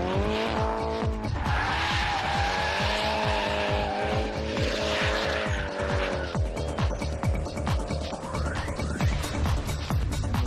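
A Nissan car drifts in controlled slides, its engine revving hard and rising and falling in pitch while the tires squeal continuously. The sound is loud and close and keeps going throughout.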